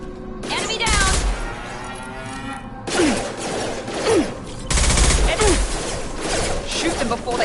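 Rapid bursts of gunfire from a Mass Effect 2 firefight on a colony, loud and close, coming in several volleys with brief lulls and whooshing shots, mixed with game voices calling out.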